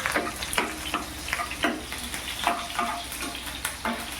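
Cumin seeds sizzling in hot oil in a kadhai with chillies and curry leaves, a constant dense crackle punctuated by repeated scraping spoon strokes, close and fairly loud, no voices.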